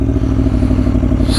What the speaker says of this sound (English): Listen to that V4.